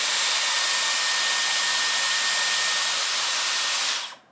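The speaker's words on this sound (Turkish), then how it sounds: "Şimdi soğuk üflüyor ve 5 saniyede böyle bekletiyorum." A Dyson Airwrap hair styler blows cold air in a steady, loud, close rushing hiss with a faint high whine, held for about four seconds before being switched off and quickly fading.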